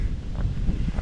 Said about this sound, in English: A breezy morning this morning.